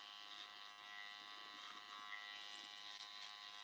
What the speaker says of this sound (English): My trimmer is set to zero